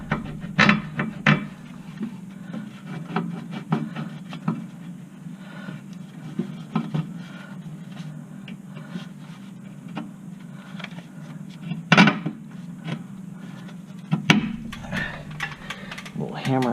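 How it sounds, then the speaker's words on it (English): Small hammer tapping on a car strut during a strut replacement, a few sharp metallic knocks standing out against a steady low hum, with scattered workshop clatter between them. "Little hammer action."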